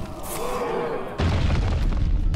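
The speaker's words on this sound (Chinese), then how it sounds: "蓝蛋直接爆炸。" A sudden deep, rumbling boom, the explosion effect of an egg minion in the Hearthstone video game, breaks in halfway through and stays loud and dense to the end after a quieter stretch of game sound.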